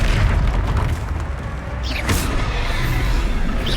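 A Confringo spell explodes in Hogwarts Legacy, a loud, continuous low rumble and boom with rushing bursts layered over it throughout the fight.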